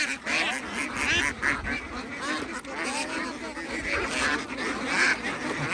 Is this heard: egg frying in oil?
no